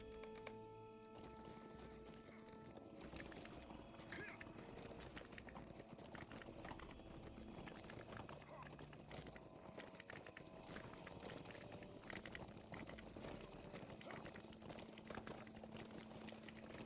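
Horse hooves clip-clop steadily in the Lord of the Rings Online video game, a continuous rhythmic trot at moderate level blended with background game ambience, no talk.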